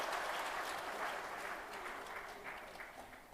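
Clapping from a seminar audience, continuous and moderately loud, thinning gradually and tapering off toward the end.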